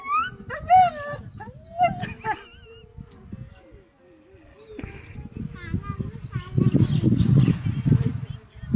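A nearby dog whimpers in a series of high, wavering whines, backed by a steady chirr of crickets; later, people talk and there is louder rustling.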